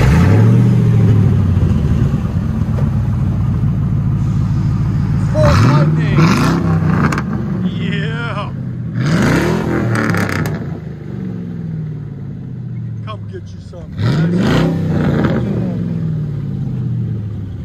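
A supercharged car engine idling through its exhaust, a steady loud low rumble with several blips of revving, while someone talks over it.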